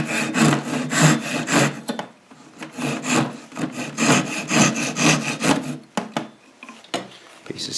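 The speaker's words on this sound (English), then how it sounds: "Get this piece of wood cut off." A handsaw cuts off a piece of wood for a dishwasher spray-bar repair, making close, loud, rhythmic rasping strokes. A brief pause comes partway through before the back-and-forth sawing resumes.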